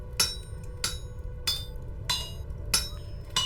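Six sharp metallic hammer strikes on an anvil, evenly spaced about two-thirds of a second apart, as a smith shapes a scythe head in the game Vintage Story, each ringing blow clear above a low steady background.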